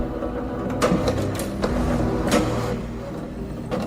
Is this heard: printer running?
yes